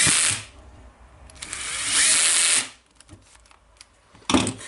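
A Makita BHP454 18V cordless hammer drill whirs loudly in two bursts, with a pause between them where faint clicks and handling noises can be heard nearby.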